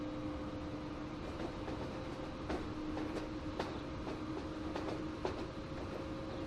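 A freight train in Transport Fever rolls over a bridge with a steady rumble, sharp rhythmic clickety-clack wheel beats and a faint sustained tone, heard alone at moderate distance.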